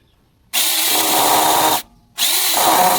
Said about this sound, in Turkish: Ters taktığıma emin olmak için şu ince, şu yumuşak ağacı kesmeyi bir deneyim.